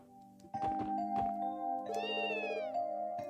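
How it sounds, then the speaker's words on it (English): A cat in The Legend of Heroes: Trails from Zero gives a drawn-out, wavering meow over quiet game music, with a few soft thumps beforehand; no talking. "It's a green kitty. A cat?"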